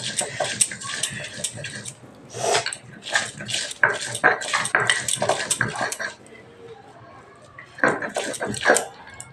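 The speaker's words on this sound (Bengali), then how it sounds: "এইবার দেখো আমি এই যে পেঁয়াজগুলো সব আদা বাটা করে বেটে নেব" Onions and ginger being ground into a fine paste by hand on a grinding stone in a home kitchen, a steady run of rough scraping and knocking strokes that comes in bursts with brief pauses.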